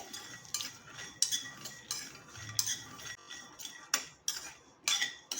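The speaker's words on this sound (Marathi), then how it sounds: "आपल्याला ना हे ड्राय रोस्ट करायचं आहे तेल तूप काही ॲड करायचं नाही आहे" A metal spoon scrapes and clinks in a pan as garlic and ginger are dry-roasted with no oil or ghee, producing quiet irregular stirring taps and scrapes spread across the clip, with no voices.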